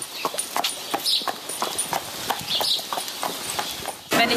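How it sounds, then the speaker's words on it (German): A horse walks on a hard surface, its hooves clip-clopping in a steady, close rhythm with faint background noise and a brief louder bump at the end. "das ist jetzt nicht mein eigenes Pferd, der Capo."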